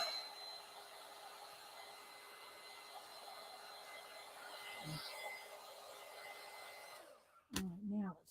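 A heat gun drying paint on a gel plate, blowing with a steady close whirring hiss for about seven seconds, then switching off before a brief bit of talk.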